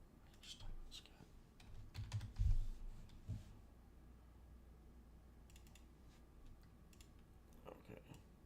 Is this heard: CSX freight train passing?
no